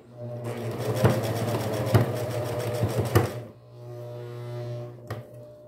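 A sewing machine runs steadily as it stitches right up to the folded fabric edge, a continuous close mechanical hum with small knocks, then it pauses briefly and resumes more quietly.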